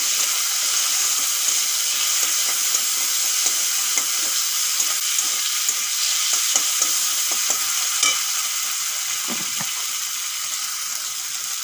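Chopped tomato sizzles steadily in hot oil with ginger and garlic in a pan, a dense continuous frying hiss with occasional soft stirring scrapes and pops, with no voices.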